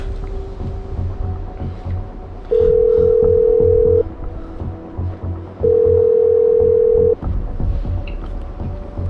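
Telephone dial tone for an outgoing call: two long steady beeps, each about a second and a half, separated by a pause, sounding over a low background rumble.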